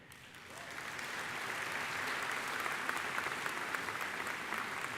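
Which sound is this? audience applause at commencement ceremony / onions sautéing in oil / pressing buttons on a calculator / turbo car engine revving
audience applause at commencement ceremony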